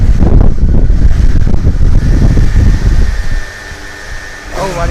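Hayabusa engine in an Indy RR Gen2 car revving loudly up close, a dense roaring blare that holds for a few seconds before dropping back to a quieter idle.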